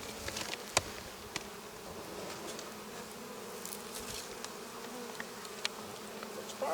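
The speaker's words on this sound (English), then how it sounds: "Lots of bees." Honeybees at a beehive during spring cleaning give off a steady, soft buzzing hum, with occasional closer bees droning past and a few faint clicks and knocks.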